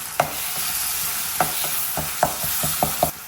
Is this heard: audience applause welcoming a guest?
no